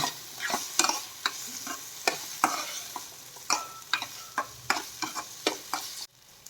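A spoon scrapes and stirs through frying potatoes and spices in a pan, a string of sharp repeated strokes over a low sizzle, close by and with no talking.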